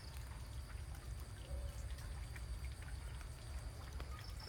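Soft, steady rain patters and trickles over an overgrown, long-abandoned fishing pond outdoors, a faint continuous hiss with scattered drops and a low rumble beneath, no voices.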